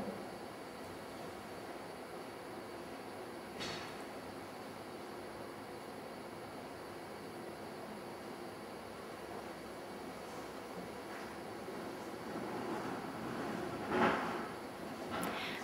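A Common Rail diesel pump runs on a Spin CR-4 injection test bench during a maximum-pressure check, a steady, moderately loud mechanical whine and hum holding throughout, with a few brief hissing bursts near the start and end.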